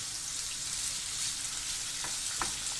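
Stir fry with soy sauce sizzles steadily in a hot pan, a dense continuous hiss with a few faint clicks near the end, close and alone.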